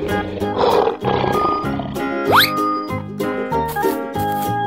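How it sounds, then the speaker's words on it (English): A cartoon lion gives a brief roar near the start, then music carries on with a rising whistle sweep and jingly accents, with no talking. "Lion."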